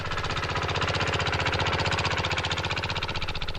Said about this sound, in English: They tried the most obvious intermediate solution, a much smaller tractor